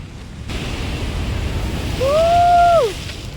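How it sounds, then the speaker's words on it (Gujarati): Strong waves surge and crash at Mangrol port on the sea coast, a dense roar with a brief rising whistle-like tone near the end and no talking. "બહુ ખતરનાક મોજાની જે લહેર કે આવે છે ભીંજવી લેજો જરાક વારમાં તો"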